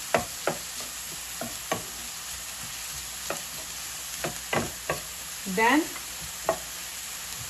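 Cauliflower rice cooks in a pan with a soft background sizzle, broken by irregular sharp clacks and scrapes of a spatula stirring it. One word is spoken briefly.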